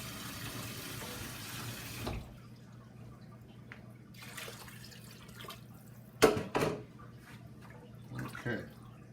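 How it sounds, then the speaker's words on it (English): Water pours from a tap into a pot of chili, a steady rushing stream for about two seconds that then stops, followed by a few faint clinks and splashes nearby. "so I'm going to add water to it"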